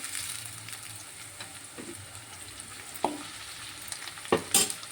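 Ginger garlic paste frying with onions in a pan for a broad bean and tomato curry, a steady close sizzle with occasional louder scrapes and clatters of stirring toward the end, no talking.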